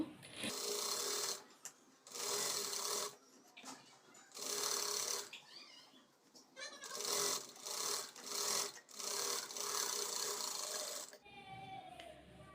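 Sewing machine stitching a blouse in several bursts of fast, loud mechanical clatter separated by short pauses, close up, with a brief spoken voice near the end.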